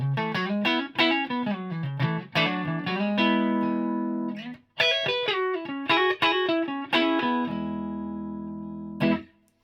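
Electric guitar played through a Fender Machete combo amp with the bright switch on, more volume and less gain: bright, slightly driven phrases of single notes and strummed chords ringing out, with pauses between passages.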